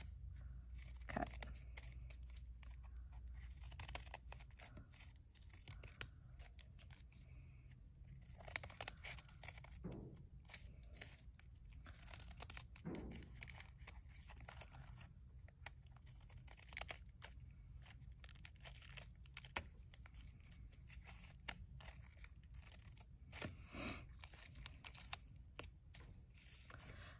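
Scissors snip paper while cutting out a paper snowflake, making faint, close, irregular crisp cuts and rustles that continue steadily throughout.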